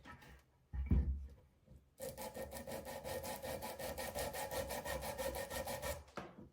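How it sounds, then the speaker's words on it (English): Hand sanding of paint with a 320 grit sanding block, a close, steady rasping scrape in even back-and-forth strokes running about four seconds after a brief bump, alone with no talk. "Next step with the sanding block."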